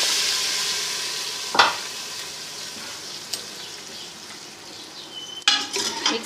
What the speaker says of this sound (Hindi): तड़का तैयार हो चुका है, अब हम इसको दाल में शामिल करते हैं